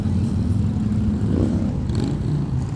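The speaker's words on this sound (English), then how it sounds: "Look, here's a three-wheeler here, a trike." A loud three-wheeled motorcycle trike rolls past in a holiday parade, a steady close engine rumble with a slight swell in the middle and background crowd noise.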